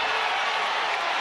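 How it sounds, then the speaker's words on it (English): Utah basketball fans cheer in an arena, a brief, dense wash of crowd roar at a steady level. "the cheer from the Utah fans"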